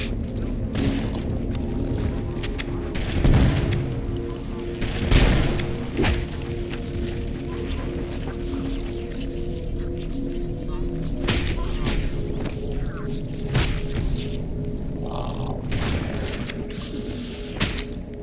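Rocket launcher blasts in Halo: Combat Evolved, several heavy booming explosions with thuds and whooshes amid continuous battle noise, under a player's occasional speech.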